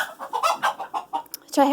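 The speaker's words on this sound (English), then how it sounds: "chickens do like to look at themselves" Chickens clucking close by in a coop in winter, a few short bursts of cackling with brief pauses between, ending in a louder squawk.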